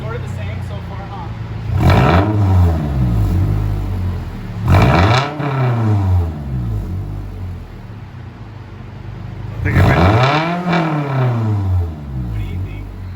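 Scion tC engine with a newly fitted aftermarket exhaust revving hard three times, each blip climbing and falling back to a raspy idle; loud and close, with voices talking between the revs.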